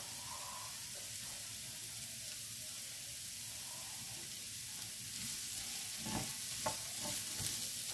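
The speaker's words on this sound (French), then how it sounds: "Déjà les oignons quand ça chauffe, ça sent super bon" Red onions frying in a hot pan give a quiet, steady sizzle, with a few soft scrapes and taps of stirring in the last seconds.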